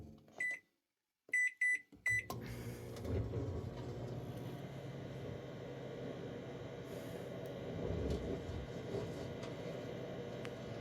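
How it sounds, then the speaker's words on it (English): A microwave oven powered by a Bluetti Elite 200 V2 portable power station in an RV gives a few short beeps, then hums steadily and quietly for several seconds. "I can run my microwave."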